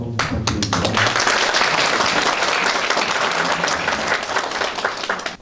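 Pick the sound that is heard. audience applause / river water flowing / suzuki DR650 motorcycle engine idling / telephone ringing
audience applause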